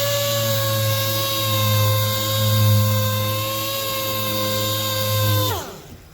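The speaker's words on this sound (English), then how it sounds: "I grab a DA with like 180 paper, and I'm just going to go over the whole hood" Dual-action sander with 180-grit paper running over a car hood, a steady high-pitched motor whine close by that spins down and stops near the end.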